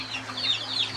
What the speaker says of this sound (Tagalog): Oh, mga manok na Bisaya